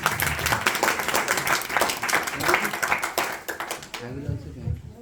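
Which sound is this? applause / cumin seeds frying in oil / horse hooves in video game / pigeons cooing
applause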